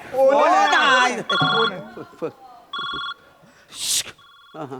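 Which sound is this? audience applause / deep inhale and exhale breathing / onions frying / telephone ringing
telephone ringing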